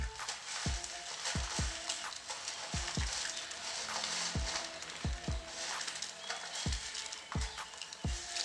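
Maggi noodles cook in a pan made of aluminium foil, giving a steady crackling sizzle with repeated dull taps and scrapes of a utensil stirring through it. The sound is close and continuous, with no talking.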